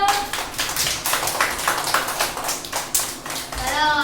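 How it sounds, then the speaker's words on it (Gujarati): A group of children at an anganwadi preschool clap their hands repeatedly in an uneven rhythm, close and fairly loud, while a voice and children's voices are heard alongside. "હવે તાળી પાડો"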